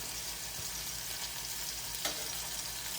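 Stump-grown mushrooms fry on a stovetop at medium-high heat, giving a faint, even, continuous hiss and sizzle with one small pop.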